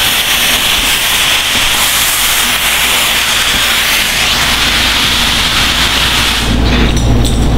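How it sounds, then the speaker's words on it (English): A fogging nozzle sprays a fine mist of water onto wet paper pulp during handmade papermaking, giving a loud, continuous hiss that runs unbroken throughout, close and alone. "This is called the Foggin nozzle. So with my Foggin nozzle, I can get different, really different techniques and different forms."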